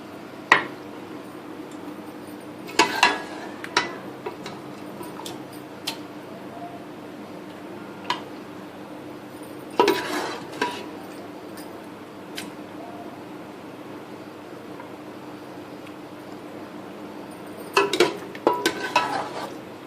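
Pasanday curry being served out of a cooking pot, with scattered spoon and pot clinks and scrapes arriving in three short clusters over quiet room tone.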